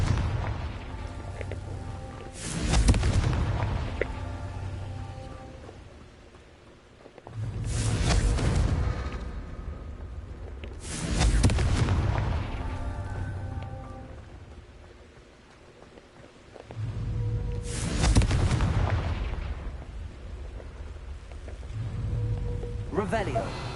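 Confringo fire spells blast in Hogwarts Legacy, a series of four booming bursts spaced a few seconds apart, each a sharp crack trailing into a rumbling roar over steady low game ambience.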